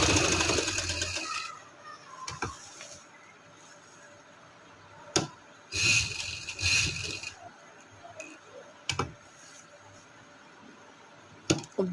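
A sewing machine stitches a trendy neck design on fabric in short, separate bursts of whirring mechanical rattle, with quiet pauses between the runs.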